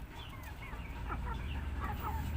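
Siamese breed hen clucking softly and repeatedly in a coop beside nests of hatching eggs, a steady low hum of background noise underneath and no talking.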